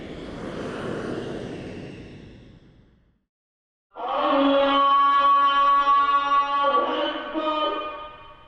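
An airplane in flight on a trip to Morocco: a broad, hissing roar slowly fades to near silence, then a louder, steady engine drone with strong humming tones starts abruptly and holds close and even.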